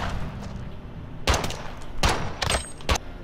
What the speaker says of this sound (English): If you fire at a pistol enough times,